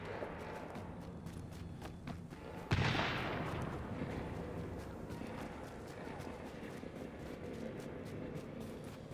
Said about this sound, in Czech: Se tam střílí